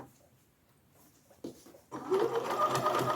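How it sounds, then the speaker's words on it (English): A home sewing machine sews straight across the top of a flat Christmas stocking, starting after a quiet lead-in with a brief back tack, then running continuously with a loud, close whirring drone. "I'm just going to sew right across"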